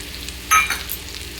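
Tomato tipped into a pan of frying eggplant, potato and spices for a vegetable curry, making a brief burst of sizzle followed by a soft stir, with no talking.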